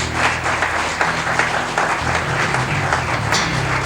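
A church congregation applauds at the close of a worship service, a thick, sustained roar of clapping that holds steady and loud from start to finish.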